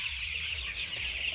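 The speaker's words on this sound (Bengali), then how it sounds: "এই সেই ভাইরাল মুরগির খামার" Chickens at a poultry farm housing about a thousand birds, faint continuous clucking and murmuring from a flock at a distance, with no talk.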